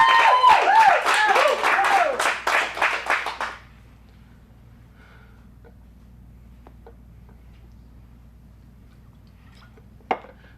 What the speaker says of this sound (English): Let's get a big round of applause for Charlie.